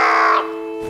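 A raven caws once in a Georgian fairy tale, a single harsh, loud call lasting under half a second followed by a quiet pause.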